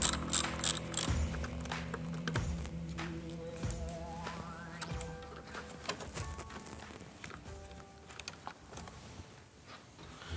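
A 10mm wrench loosening the negative battery cable on a Harley-Davidson Milwaukee 8 Road Glide: close metallic ratcheting and clinking, denser at first, then lighter scattered taps and knocks.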